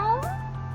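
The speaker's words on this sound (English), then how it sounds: "Why is she saying meow?" A character in Re:Zero The Prophecy of the Throne lets out a single short, bright meow with a rising pitch over a steady low background tone.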